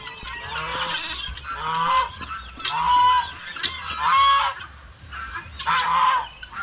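Several loud honking calls from farm turkey hens come in bursts about a second apart, with quieter gaps of background noise between them and no talking.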